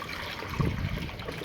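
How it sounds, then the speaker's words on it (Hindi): Heavy rain pours steadily onto a roof over a poultry shed, a dense, even wash of water noise that swells slightly midway and runs on throughout. "छत पे बारिश इतनी हो रही"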